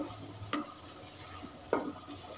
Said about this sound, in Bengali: দশ থেকে 15 মিনিটের মতো কচু বাটাটা ভালো করে নেড়ে চেড়ে নিতে হবে।